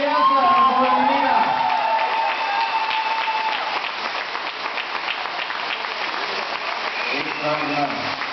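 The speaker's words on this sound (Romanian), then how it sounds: "Aplauze pentru mine și viața, pentru Lumina!" Wedding guests at a couple's first dance applaud and cheer loudly, sustained clapping mixed with whoops and voices, continuing throughout.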